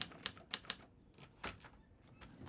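Typewriter keys striking ink onto paper, a handful of sharp, separate clacks at an uneven pace over a quiet room background, close and fairly soft.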